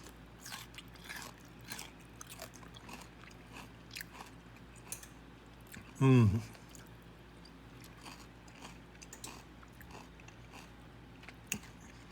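A single loud, crisp crunch of a bite into pickled broccoli in the middle of an otherwise quiet stretch with faint mouth noises.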